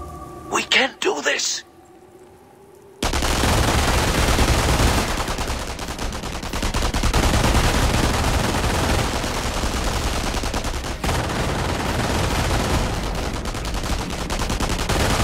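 Dense, continuous small-arms and machine-gun fire from the WWII strategy game Company of Heroes, loud and sustained after a brief quieter opening with a voice.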